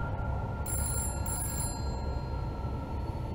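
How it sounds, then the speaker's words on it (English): A telephone beside a bed rings in a Call of Cthulhu tabletop role-playing game scene, two short electronic rings with a brief gap between them, clear over a constant low background rumble. "the telephone next to George's bed rings."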